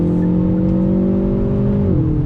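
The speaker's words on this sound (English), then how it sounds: "let me drop it down a gear on the throttle" Hyundai Veloster N 1.6-liter turbocharged hot hatch engine revving steadily under throttle, then a drop in pitch near the end as it downshifts, loud and close inside the cabin with no talk.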